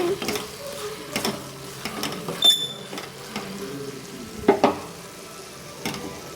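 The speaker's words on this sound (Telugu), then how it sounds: "ఇలా వేగేటప్పుడు మధ్య మధ్యలో ఇలా కలుపుకుంటూ ఉండాలండి" Vegetables frying in a pan for a spicy chutney while being stirred: a steady soft sizzle broken by repeated scraping and clinking strokes of the spoon against the pan, close and fairly quiet.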